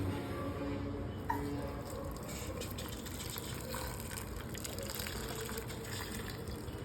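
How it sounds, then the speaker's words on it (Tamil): Water poured into a small pressure cooker over cut potatoes in a home kitchen, a steady broad gushing pour running the whole time at moderate level, with no talk. "இப்போ இது எல்லாமே மூழ்கிற அளவுக்கு தண்ணி ஊற்றணும்"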